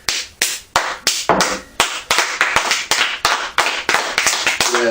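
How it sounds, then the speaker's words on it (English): Hands clapping: about two dozen sharp, loud, close claps in a fairly steady rhythm, slightly uneven, with no talking. "We clapped."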